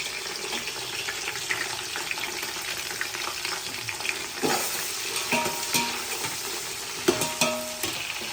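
Sliced onions, 300 grams, sizzle in hot oil for chicken basmati biryani, a close and busy crackle broken by occasional clinks and scrapes of stirring, with no voices.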